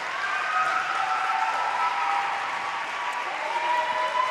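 Steady applause from a crowd at a girls' high school basketball game in a gym, as two seniors are honored at the regular season home finale, sustained and even throughout with no voices standing out.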